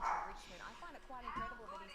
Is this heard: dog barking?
yes